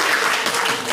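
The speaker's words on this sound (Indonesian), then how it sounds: "Dan boleh tepuk tangan yang keras dulu buat Ibu Bapak Guru semua." Loud applause from an audience honoring teachers, a dense, steady wash of clapping filling the whole short moment without pause.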